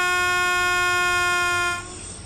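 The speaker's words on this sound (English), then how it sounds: "There we go, here comes the train." A train passing in the Train Sim World 2 game on the Glasgow Cathcart Circle Line, a loud steady tonal horn-like drone over rumble that cuts off and drops in level near the end.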